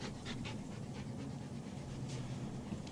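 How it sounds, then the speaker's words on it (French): A dog panting in quick, steady breaths close by, soft and continuous over a low background hum, with no speech. "Votre chien, faites-le sortir."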